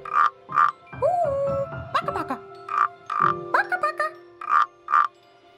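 Repeated pairs of cartoon frog croaks ring out between playful sliding musical tones and jingles in a children's night-garden show, each croak short, bright and close.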